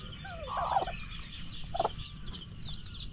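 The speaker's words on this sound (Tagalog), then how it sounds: "Ay, pabo pala, hindi pato." A turkey gobbles in a couple of short bursts on a dragon fruit farm, with faint bird chirps in the background; no talking.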